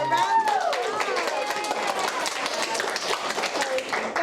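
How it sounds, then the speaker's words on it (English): A school PTSA drawing winner receives a round of applause on a live afternoon show: brisk clapping from a small group throughout, with bright overlapping voices and excited chatter on top. "Give her a round of applause."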